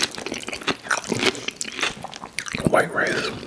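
Someone eats a Chipotle bowl with tortilla chips and queso blanco cheese sauce, taking big bites close to the microphone, with crisp crunches mixed with wet, squishy chewing.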